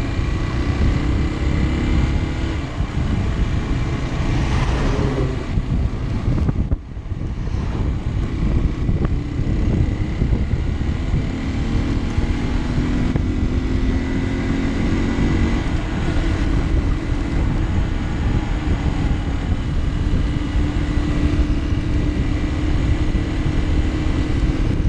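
Hero Xtreme 200R motorcycle engine pulling hard on the road, a loud sustained drone with rising and falling pitch through the gears and heavy wind rush, with a brief dip partway through.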